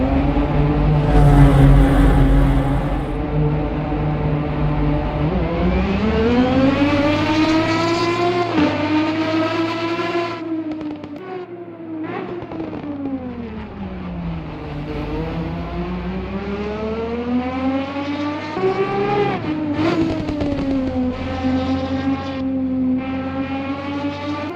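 Race cars in the racing game Project CARS 3, with engines howling as they rev up and drop back through repeated gear changes; loud and continuous, with no talk.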